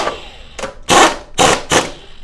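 A pneumatic air tool loosens the draw bar on a Nantong vertical milling machine, firing three loud, short rattling bursts close by with brief pauses between them.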